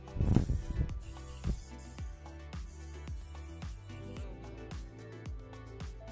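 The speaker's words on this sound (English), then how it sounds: "I'm going to be using the continuous setting mist from Morphe" Morphe Continuous Setting Mist sprays onto a face in a series of quiet, close, hissing spritzes that come in fairly regular succession.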